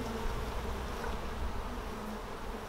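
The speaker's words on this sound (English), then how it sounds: "This hive is just going to explode with bees." Honeybees in an open hive during an inspection, a dense continuous buzzing hum close by, steady and alone without voices.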